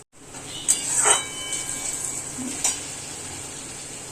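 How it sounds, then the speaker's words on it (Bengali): Spice paste with tomato and green chilli sizzles in a pan for a fish curry. A steady high hiss runs throughout, broken by a few close scraping stirs near the start and once more later. "ভালো করে মশলাটা কষিয়ে নিই"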